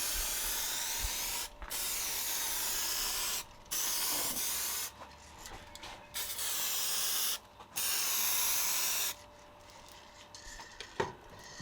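A spray gun applies a 2K paint mist coat to a Mini, giving loud hissing bursts of a second or two each separated by short pauses, five or six passes in a row with a faint click near the end.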